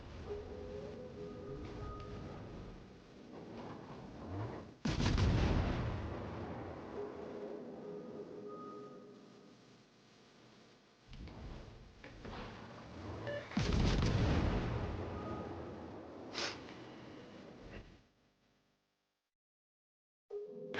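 Gunfire from the Tier V premium Japanese cruiser Yahagi in World of Warships: two heavy booming salvos about eight seconds apart over a low, steady engine rumble.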